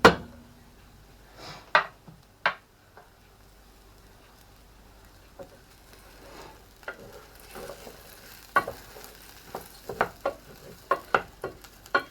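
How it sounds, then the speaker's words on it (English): 150 grams of risotto rice stirred and fried in a pan, with a soft background sizzle broken by scattered scrapes and taps of the spoon that grow more frequent toward the end. "We're going to mix that in, and again we're going to fry this off for 2 minutes."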